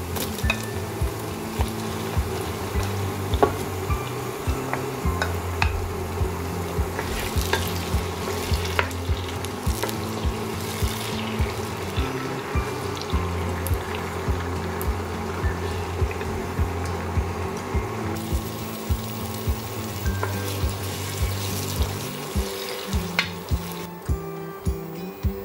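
Tomatoes frying and being stirred in a pot for a Cameroonian potato hot pot, a steady close sizzle with regular spoon knocks and scrapes throughout.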